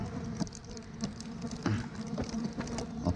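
Stingless bees buzz steadily up close while a colony is split into a new hive box, a low continuous drone with scattered faint knocks and rustles.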